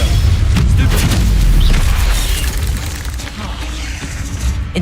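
Fire spell bursts in a Hogwarts Legacy wizard duel, heavy booming blasts and crackling flame layered with game combat noise, loud and continuous, while a voice speaks over the fighting.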